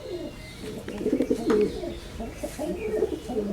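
Homing pigeons back from a 182 km training flight coo close by in soft, repeated throaty rolls, several calls overlapping across a few seconds.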